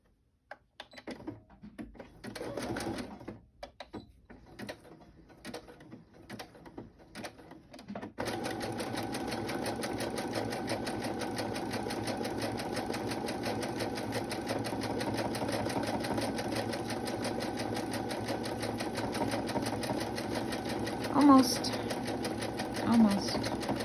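A sewing machine starts and stops in short bursts, then runs steadily and fast for a long stretch, close by and fairly loud.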